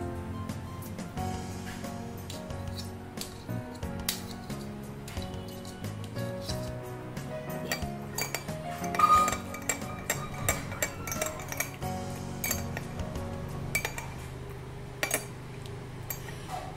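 Metal clinks and scrapes of a spoon against a pot ring out while honey goes into a hot homemade herbal drink with lemon, in scattered bursts over a faint kitchen background.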